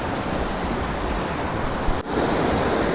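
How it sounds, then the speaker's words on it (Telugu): River water rushes over and hits rocks at an Indian river crossing, a loud, dense, continuous roar with a short dip near the end and no voices. "వాటర్ రాళ్ళని కొడుతున్న సౌండ్ దుబ్ దుబ్ దుబ్ అని వస్తుంది నాకు."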